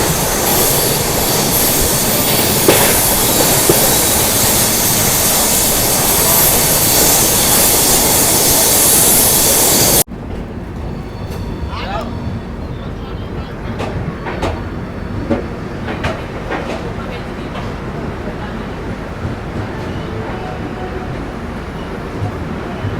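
Garib Rath express train with economy coaches, hauled by an LHB rake, running fast on rails: a loud, steady rolling roar with faint rhythmic clatter, dropping to a quieter, more muffled interior rumble partway through.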